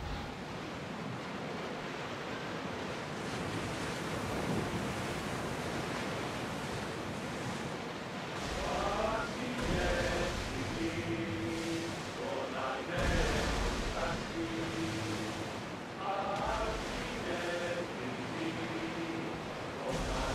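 A ship sails across the ocean in Assassin's Creed Odyssey, with a continuous rush of waves and wind that swells and recedes, joined midway by faint sustained tones.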